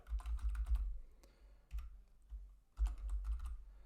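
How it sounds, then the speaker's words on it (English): Several bursts of quick arrow-key taps on a computer keyboard, close and fairly quiet, with short pauses between the clusters. "You can use the arrow keys on your keyboard to move around"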